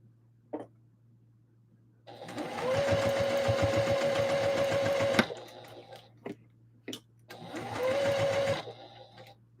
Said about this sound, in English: Sew those two layers together.